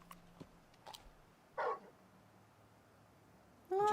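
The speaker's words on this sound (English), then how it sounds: "That's my dog." Torgal, a large dog in a video game, gives a couple of short barks: one brief bark near the middle and another louder one at the end, over a faint ambient game background.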